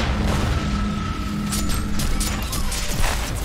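Gunfire and explosive booms from Warhammer 40,000: Inquisitor - Martyr combat, a dense continuous barrage of loud blasts and mechanical clatter layered over a steady droning game soundtrack, no voices.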